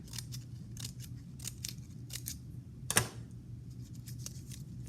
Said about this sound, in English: And then I'm going to cut the fringe like I cut the fringe on the cardinal's hair.